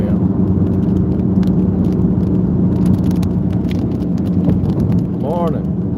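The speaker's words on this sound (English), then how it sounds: "I don't know if you can hear, but the wind is just howling around the car" Strong wind roaring around a car driving into a headwind during a storm in central west Texas, a steady loud rush under the engine hum throughout.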